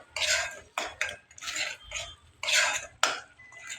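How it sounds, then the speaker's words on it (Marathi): Masala paste ground with a little yogurt, stirred and sautéed in a pan for paneer butter masala; repeated scraping and clinking of a spoon against the pan in short bursts, close and fairly loud, with no talking. "वाटताना त्यात मी थोडं दही घातलं होतं। हे छान आपण परतून घेऊया त्यात।"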